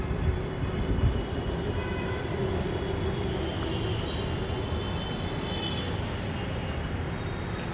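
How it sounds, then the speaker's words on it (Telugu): Metro train passing on the line near Ameerpet metro station, a continuous broad rumble heard from a short distance from a nearby apartment, steady and moderately loud throughout. "మన బాలకనేని వచ్చినట్లయితే మెట్రో స్టేషన్ మెట్రో వెళ్తుంది చూడండి"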